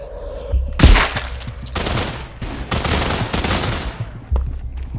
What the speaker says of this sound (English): Oh, these guys are busy shooting these guys.